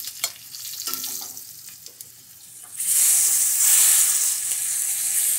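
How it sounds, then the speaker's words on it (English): Rabbit pieces browning in a pan of oil and butter, a steady loud sizzle and crackle of frying that swells sharply partway through and holds, with no talking. "Browning rabbit takes a few minutes."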